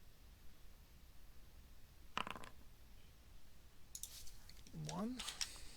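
Several dice rattling and clicking briefly in a tabletop wargame, Commands & Colors: Medieval, a short burst of close clatter with soft voice sounds following.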